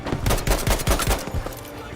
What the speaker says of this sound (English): In the Battlefield series, the use of realistic sounds of gunfire processed just the right way makes a multiplayer match feel